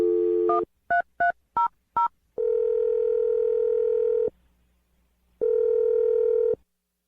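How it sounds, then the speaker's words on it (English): Six short telephone keypad tones beep in quick succession, followed by two long, steady ringback tones separated by a pause. "I'm going to dial the phone number right now."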